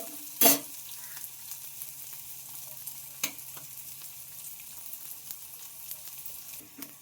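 Garlic, onion and chili fry together in a pan with a low, steady sizzle, broken by one sharp clatter near the start and a few light stirring knocks, fairly quiet and close.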